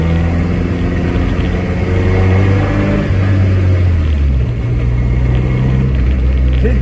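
A modified Triumph Herald engine runs steadily while driving, a loud, close, continuous hum that shifts pitch slightly as the revs change.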